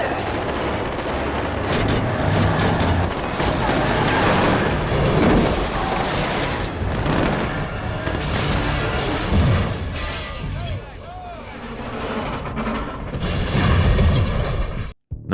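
Intense gunfight from Michael Mann's 1995 crime film Heat, with dense, continuous bursts of automatic gunfire and booming impacts filling the scene, loud and sustained, with shouting voices mixed in.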